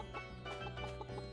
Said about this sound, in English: I know, I'm stacking the chickens again.